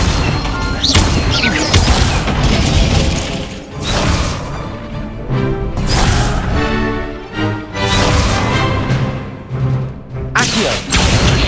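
Fire spell blasts in the Hogwarts video game, loud bursts and crashing impacts repeating every second or two over dense combat noise and music, with a short lull near the middle.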